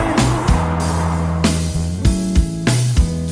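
Cars rush past on the I-5 highway, a series of loud close whooshes with engine hum, several vehicles in quick succession over a continuous traffic roar.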